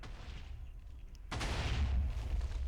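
TNT cannon blasts and TNT explosions in Minecraft: quiet hiss, then a sudden loud boom at about 1.3 seconds that rolls into a sustained rumbling roar of blasts to the end.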